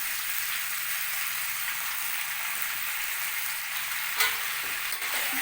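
Raw mango and sugarcane jaggery being stirred in a hot pan, giving a soft continuous sizzle with a faint stirring scrape and one brief clink near the end.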